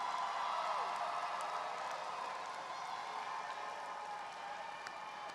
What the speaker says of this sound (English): give them a round of applause for supporting you